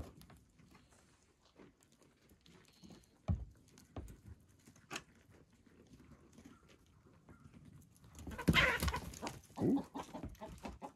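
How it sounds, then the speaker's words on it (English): An unhappy chicken squawks and clucks outdoors at a mountain daybreak, with sporadic bursts that peak in a loud, harsh flurry of squawks near the end against a quiet background. "Chicken's very unhappy now."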